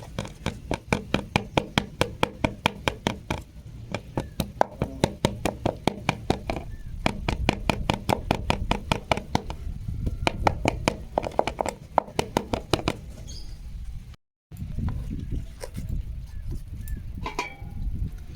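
A cake tin holding eggless fruit cake batter is shaken and tapped on a surface, giving a long run of quick, sharp, evenly spaced knocks up close that later turn denser and more irregular, with a brief pause near the end.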